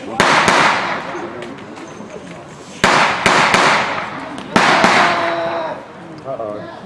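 Sharp gunshots at a World War 1 reenactment at Midway Village, three loud cracks spaced a couple of seconds apart, each with a rolling echo, carried over an outdoor crowd.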